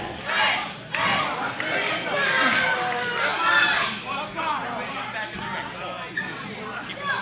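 Wrestling arena crowd shouting and yelling throughout, a dense babble of many voices with rising cheers and jeers, loud and continuous.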